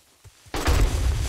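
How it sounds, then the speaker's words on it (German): In the video game 7 Days to Die, after a quiet moment with a faint thud, a sudden loud burst erupts into a deep, rumbling blast that sustains noisily. "Nö, da explodiert's."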